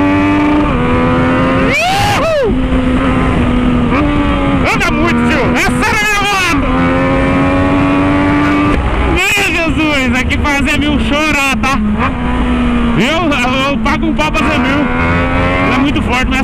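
A remapped Yamaha MT-09 motorcycle engine revs hard and accelerates close by, loud repeated pitch sweeps rising and falling through gear changes, with brief shouting voices over the roar.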